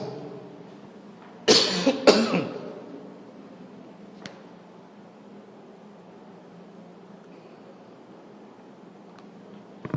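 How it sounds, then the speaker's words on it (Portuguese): A short burst of several harsh coughs in quick succession during a coughing fit in a talk, then a quiet room with faint background hum and a lone click. "Deu acesso de tosse"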